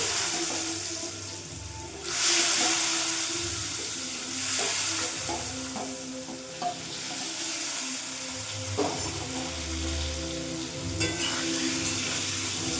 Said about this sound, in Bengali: ভাপানো ওল আর আলুটা আমি দিয়ে ভেজে নেব।